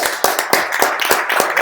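A group claps in sharp, rapid bursts, several separate loud strikes in uneven rhythm, close and bright.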